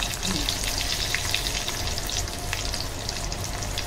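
Mutton samosas, two at a time, fry in oil in a small kadhai over medium-high gas, giving a steady, dense sizzle and bubbling throughout with no talking.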